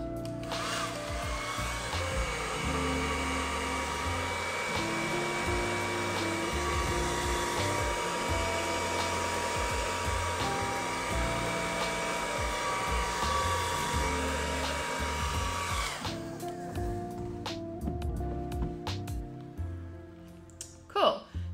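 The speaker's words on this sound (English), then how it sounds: "you can actually use a hairdryer to push the resin up" A steady, loud electric hair dryer whirs for about fifteen seconds, blowing on resin poured on a cheeseboard, then cuts off, leaving a few quiet clicks and knocks.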